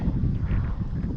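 Wind blows steadily and strongly against the microphone outdoors on a hilltop in Cambodia, making a continuous low rumble with no speech.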